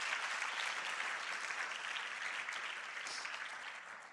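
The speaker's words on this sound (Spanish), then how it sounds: "Dale un aplauso a Dios por eso." A church youth service audience claps, a steady wash of applause that stays fairly even throughout, a little distant and with no talk.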